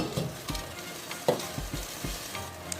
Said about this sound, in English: So I stirred everything up together